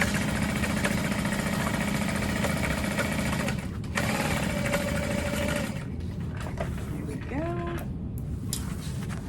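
A sewing machine runs steadily, back-stitching a half-inch seam at a long stitch length on the Rose Handbag, a dense continuous whir for a few seconds before it stops and quieter handling noises follow, with a voice faintly present.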